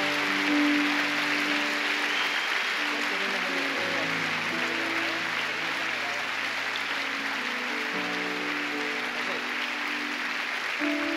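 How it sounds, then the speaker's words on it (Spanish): Applause during a church service, a steady wash of clapping at moderate level heard under sustained tonal music. "Eso es un aplauso para Dios."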